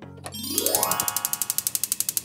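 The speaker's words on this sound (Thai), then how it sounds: "กดกระดิ่ง" A bell-style notification sound effect: a rising boing sweep followed by a rapid run of bright, evenly spaced metallic dings that repeat and fade, loud and alone.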